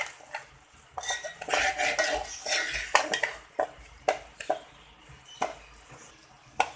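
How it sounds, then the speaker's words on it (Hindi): Semolina being roasted in ghee in a pan, heard as a run of close metal clinks and scrapes of a spoon against the pan, irregular and fairly quiet, with a faint sizzle underneath and no talking. "अब हम घी में सूजी डाल देंगे और सूजी को घी में ही भूनेंगे।"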